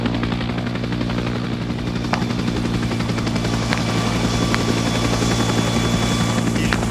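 Helicopter in the video game Arma 3 S.O.G. Prairie Fire, with a steady, loud engine whine and rotor thump holding evenly throughout, close by and with no pauses.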